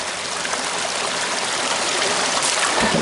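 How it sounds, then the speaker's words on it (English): Water pours steadily into a bucket outdoors beside a water source, a continuous close rushing splash with no breaks for a few seconds. "the first thing we do is we get some water in the bucket."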